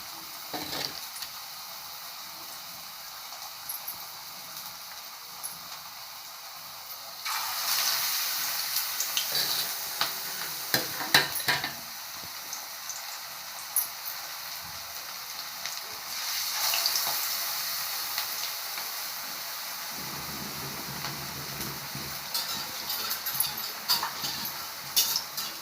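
Ragi vada batter fries in hot oil, a soft steady sizzle that swells into louder bursts of crackling as pieces drop in, with faint clinks of utensils.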